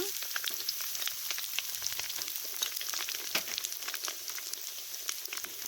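Steady crackling sizzle of curry leaves and asafoetida frying in hot oil, with sharp spitting pops throughout, close and fairly quiet.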